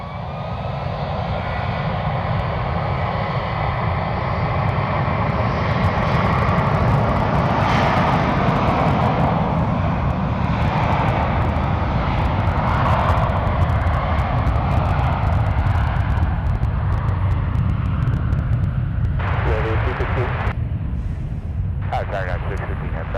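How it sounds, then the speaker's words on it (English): A VIP Boeing 757 jet takes off at San Francisco airport, its engines producing a powerful, sustained roar that rises and rumbles for over twenty seconds, with someone talking over it. "VIP 757 taking off here at LA Flights, the SFO edition."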